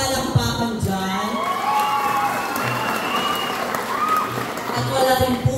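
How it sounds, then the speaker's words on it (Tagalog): A pageant audience claps loudly and continuously, with scattered cheers through the applause and a host's voice talking over the crowd. "Wala po bang palakpakan dyan?"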